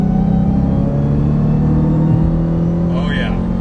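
A supercharged Dodge Hellcat with a manual gearbox, its engine droning loud and steady from inside the car while driving, with a deep sustained rumble and a brief shift in pitch near the end.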